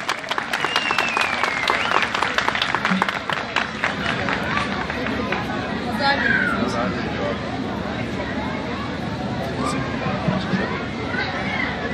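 Steady applause from a festival crowd at a grape festival in Senirkent, Isparta, welcoming a parliamentarian to the stage, with dense continuous clapping and murmuring voices throughout.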